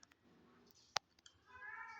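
A cat recovering from neutering meows from inside its cage, a short call near the end after a sharp clack of the cage latch, with soft rustling around it.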